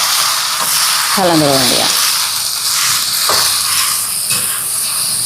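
Drumstick leaves with grated coconut, turmeric and salt frying in a pan give a loud, steady hissing sizzle, with someone speaking briefly over it and a clink of the pan midway.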